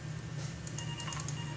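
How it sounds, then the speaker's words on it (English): A telephone rings in The Return To Freddys game, faint electronic tones over a steady low hum, brief and quiet with no talk. "Oh, we got a phone call."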